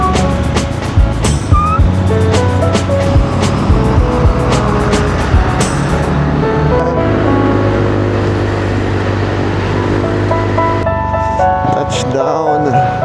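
Heavy road traffic around a motorcycle on a long-distance ride through the Philippines: a loud, constant wash of engines and tyre noise, with passing vehicles swelling over the drone.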